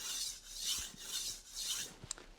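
A very blunt Wusthof Classic Ikon knife is sharpened on a 220 grit whetstone: rhythmic close abrasive swishes in back-and-forth strokes, about four passes in quick succession, with no talking.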